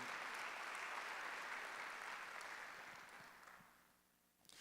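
A church congregation applauds during a Korean Sunday worship service, dense clapping that holds strong for about three seconds and then thins and fades away.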